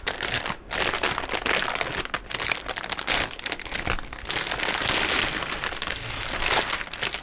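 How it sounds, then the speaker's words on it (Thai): A sealed plastic bag holding a denim Labubu messenger bag is torn open and unwrapped, giving continuous loud close crinkling and crunching plastic for several seconds with no talk. "จะเป็นตัวถุงพลาสติกบวกกับซีลด้านบนมาแบบนี้นะเดี๋ยวผมจะมาแกะนะครับ"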